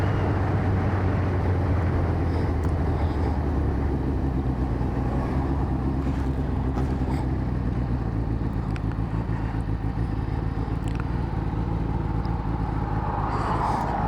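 A Kawasaki ZZR600 motorcycle engine idles steadily and somewhat high for the whole stretch, a continuous close rumble with no talk over it.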